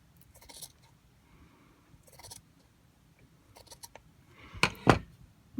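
Scissors snip through fabric for Bratz Big Babyz doll clothing in a few short, separate cuts, quiet at first and then two louder, sharper snips near the end.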